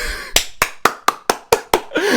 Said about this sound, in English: that clap was loud